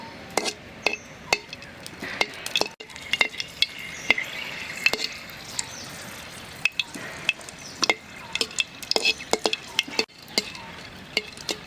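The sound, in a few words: dry red chillies frying in oil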